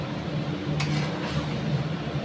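Spices and meat stirred in a pan, soft scraping and clinks of a utensil against metal, one sharper knock near the middle, no speech.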